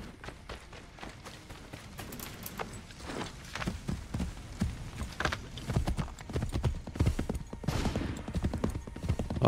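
Horse hooves pound in a fast gallop in the video game Assassin's Creed III, a rapid drumming rhythm up close with scattered rattling impacts that grow louder toward the end.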